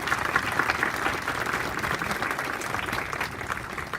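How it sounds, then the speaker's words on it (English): Audience applause at the East Timor Trading Group 20th anniversary ceremony, a steady patter of many hands clapping at moderate distance for several seconds. "Let's give a round of applause to East Timor Trading Group."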